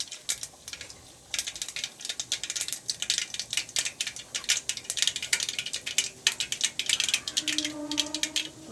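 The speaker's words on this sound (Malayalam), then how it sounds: "കടുക് പൊട്ടിയിട്ടുണ്ട്." Mustard seeds crackle and pop in hot oil, a dense run of sharp little bursts that keeps going steadily from close by as the tempering for bitter gourd thoran cooks.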